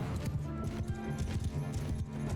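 A horse gallops in the Mount & Blade II: Bannerlord video game, its hooves pounding in a quick, rhythmic clatter during a battle.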